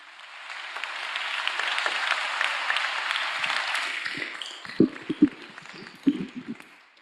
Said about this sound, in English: I would like us to give a round of applause for Elliot